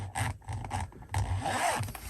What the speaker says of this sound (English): Open it, shut it. So you have to learn You have to learn how, and this is a brand new zip.